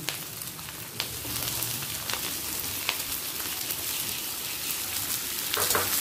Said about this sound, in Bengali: আলুটাকেও পেঁয়াজের সাথে হালকা ভেজে নেব